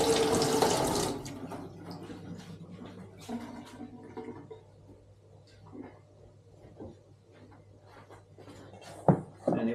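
Tap water runs into a sink for hands being washed while making curry damper dough, a loud gush at first that quickly drops to a quieter trickle with scattered drips and small splashes.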